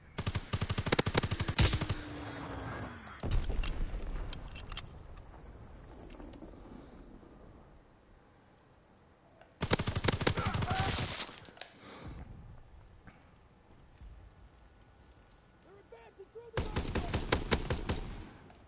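Bursts of rapid automatic gunfire in a combat video game come loud and close in three separate volleys, with quieter stretches of battle noise and faint voices between them.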